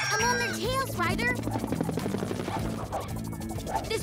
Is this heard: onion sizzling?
no